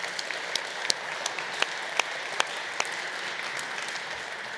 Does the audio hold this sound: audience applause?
yes